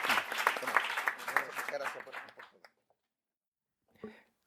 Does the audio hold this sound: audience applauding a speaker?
yes